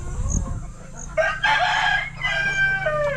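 A rooster crows loudly and close by, one long drawn-out call with a steady low hum underneath.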